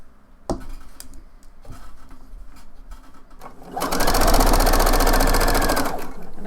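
Home sewing machine stitching a facing edge on a twisted blouse runs in a loud, steady continuous whir for about two seconds near the end, after a few soft clicks and handling sounds.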